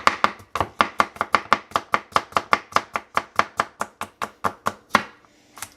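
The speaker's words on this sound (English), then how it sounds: "Let's give it a little chop." A Mosfiata chef knife chopping food on a cutting board, a fast even run of about two dozen crisp, close knocks that slows toward the end, with no talking.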